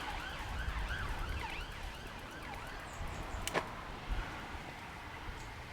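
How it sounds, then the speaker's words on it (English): Emergency vehicle sirens wail in the distance behind steady outdoor background noise, rising and falling faintly for several seconds, with a sharp click partway through. "Sorry about the sirens."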